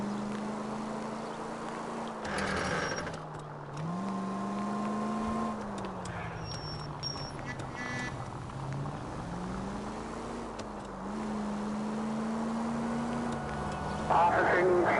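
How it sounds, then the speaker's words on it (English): A car engine in the video game L.A. Noire, said to make an odd sound, drones steadily at moderate loudness, its pitch rising and falling as the car drives, with brief speech and other game noises over it. "The car makes a weird sound."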